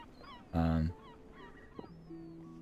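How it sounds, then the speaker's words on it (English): A loud, harsh honking bird call rings out once, followed by fainter calls and squawks from other birds in the background. "These gulls are loud."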